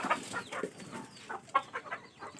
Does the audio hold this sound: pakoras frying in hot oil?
no